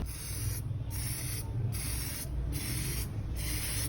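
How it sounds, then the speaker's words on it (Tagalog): Spray paint hisses steadily onto an Aerox scooter's radiator cover as a top coat goes on, a continuous close broadband rush with brief pulsing gaps, no talking. "Tapos lagyan ko na siya ng top coat."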